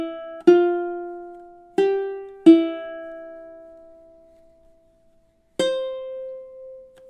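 Ukulele duet part of a tune from The Legend of Zelda: four plucked notes or chords, the first three close together and the last after a pause, each ringing out clearly and decaying slowly, with no talking.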